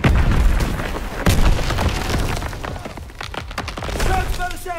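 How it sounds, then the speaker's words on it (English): Heavy bursts of gunfire and booming blasts, with loud rapid shots up close and voices shouting over the chaos. "Gunfire! We must be near our guys."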